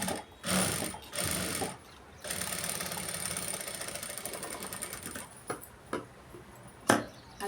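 A sewing machine stitches a blouse in quick runs: two short bursts, then a long continuous whirring stretch, followed by a few brief taps and stops, close and fairly quiet.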